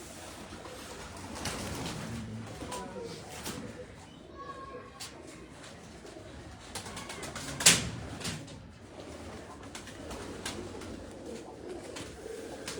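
Shahi pigeons coo softly in a loft, low throaty calls spread across the background while someone talks over them and a brief sharp knock sounds midway.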